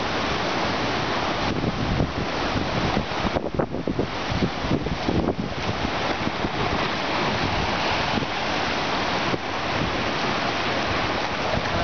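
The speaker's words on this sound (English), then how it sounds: "that's the storm surge pushing the water up" Hurricane storm surge pushing waves up a canal at Bayberry Beach club, with roaring wind buffeting the microphone and rushing surf, loud, broadband and continuous with gusty swells and no speech.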